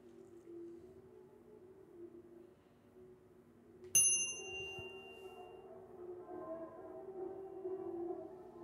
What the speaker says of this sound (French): sonnons la cloche